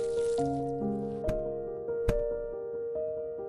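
Water poured into a GEME bio waste composter, giving a close, faint trickle and fill alongside a few steady tones and two sharp clicks, with no talk over it.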